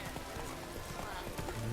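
Hooves of Roach, the horse in the video game The Witcher 3, trot in rhythmic clip-clop under loud game ambience and a speaking voice, close and continuous for a short stretch.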